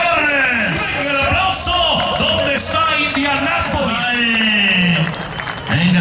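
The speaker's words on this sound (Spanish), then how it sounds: "El aplauso, señores, para este chapo." Crowd applause and whoops at a Mexican-style bull-riding rodeo at a ranch in Indianapolis, steady clapping beneath a loud announcer talking throughout.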